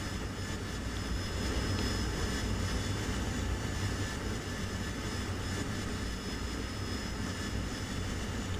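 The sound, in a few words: aircraft engine in video game DCS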